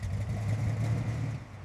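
A 1955 Chevrolet Tri Five engine runs steadily at a low, rumbling idle nearby, with no talk over it.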